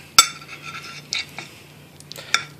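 A metal spoon clinks and taps against a dish while mashing a banana, giving a sharp opening clink followed by several lighter scrapes and knocks spaced irregularly, close and fairly quiet.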